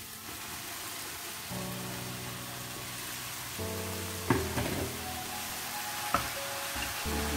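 Washed minced meat hits a frying pan of al dente vegetables and sizzles steadily, with a couple of sharp clinks and scraping stirs, close and continuous.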